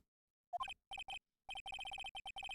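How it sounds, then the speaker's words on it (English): A telephone rings in short repeated electronic trills, bright tonal bursts in an irregular pattern after a brief rising chirp, clear and close against silence. "All of a sudden, the phone began to ring."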